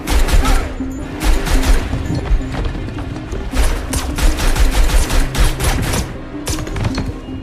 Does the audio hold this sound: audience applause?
no